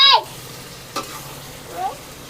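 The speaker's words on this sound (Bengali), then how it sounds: "এই মাংসটা যত ভালো করে কষাবেন তত মাংসটা ভালো হবে" Wild boar meat stir-fries in a pan, heard as a low, faint sizzle with a couple of brief squeaky scrapes of the spoon against the pan.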